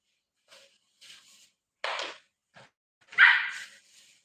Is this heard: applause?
no